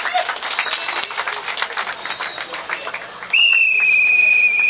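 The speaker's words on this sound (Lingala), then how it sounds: "est-ce qu'on peut acclamer très fort pour le chef de l'État?" At a UDPS political rally, a crowd cheers and claps loudly for the head of state. The dense applause then gives way to a sustained whistle or sirening tone.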